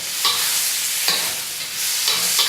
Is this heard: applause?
no